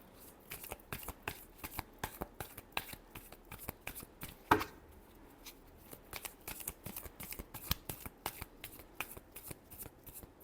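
Tarot cards are shuffled by hand in a rapid series of crisp riffling snaps, close and fairly quiet, with one sharper knock midway and continuous rhythmic flicking throughout.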